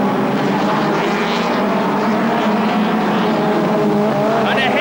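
Touring race cars from the 1989 BTCC at the Birmingham Superprix street circuit drone past with a continuous loud engine roar that swells and fades slightly, without a break throughout.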